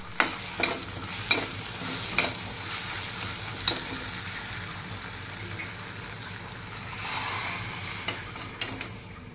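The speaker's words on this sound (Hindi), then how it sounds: "मैंने सिवैयाँ बनाने के लिए कढ़ाई में तेल, जीरा, हरी मिर्ची और प्याज भूनने के लिए रख दिए हैं" Oil, cumin, green chillies and onion fry in a kadhai for vermicelli, a steady moderate sizzle broken by repeated sharp stirring clinks and scrapes of a spoon against the pan.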